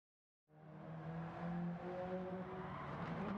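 Alfa Romeo 4C Gr.3 race car driving on a circuit in Gran Turismo 7, its engine droning in steadily after a moment of silence and holding at a constant, fairly loud level.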